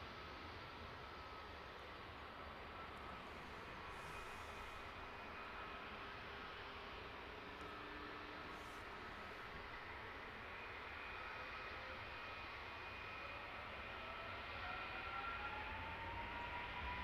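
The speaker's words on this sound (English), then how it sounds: "Heavy Wizz Air, full-length departure to Tel Aviv." A heavy Wizz Air jet makes a full-length takeoff roll at London Luton Airport, its engine roar steady and sustained with rising whine tones as it departs.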